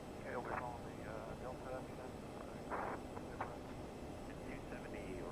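A CRJ 550 airliner taxis quickly in a flight simulator, its engines a constant broadband whine and rumble under intermittent talking.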